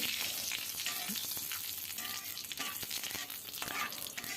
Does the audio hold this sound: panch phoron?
yes